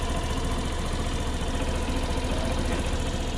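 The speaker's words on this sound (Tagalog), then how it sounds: "try natin i-start ayan one click no." A Suzuki Burgman scooter engine idles with a steady, even buzzing thrum, close and constant throughout, no voices.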